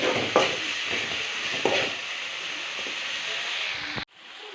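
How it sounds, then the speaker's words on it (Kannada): Tomato fries with salt in a hot pan. A steady, loud sizzle and hiss continues with a few stirring scrapes and then cuts off abruptly near the end. "ಇವಾಗ ಇದಕ್ಕೆ ಒಂದು ಟೊಮೆಟೊ ಹಾಗೆ ಉಪ್ಪು ಹಾಕ್ಕೊಂಡಿದ್ದೀನಿ ಇವಾಗ ಚೆನ್ನಾಗಿ ಫ್ರೈ ಮಾಡ್ಕೊಳ್ಳೋಣ"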